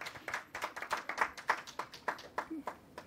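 An audience at a poetry recital event claps in a steady patter of hands, moderately distant and fairly quiet, with a faint voice showing through the applause.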